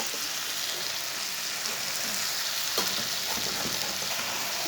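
Okra (bhindi) fries on high heat in a pan, giving a steady, close hiss of sizzling oil with a few soft scrapes and clinks of stirring partway through.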